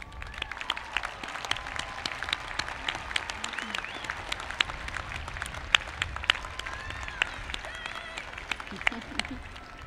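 Sustained audience applause at a university commencement ceremony (CSUN, 2017), many hands clapping steadily and densely for about ten seconds, with faint crowd murmur underneath.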